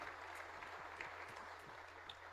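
A church congregation claps together in a fairly steady rhythm, the applause moderately loud and even over a couple of seconds.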